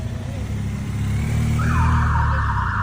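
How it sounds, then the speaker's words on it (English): An ambulance siren sounds on a city street as a steady wailing tone rises out of traffic rumble midway through and holds fairly loud. "Goes the ambulance."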